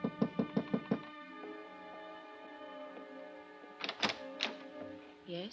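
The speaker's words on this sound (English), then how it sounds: "then I knocked on her door" Knuckles rap on a hotel room door in a radio drama, first a quick run of five or six sharp knocks, then a pause over sustained music and a second, looser group of knocks.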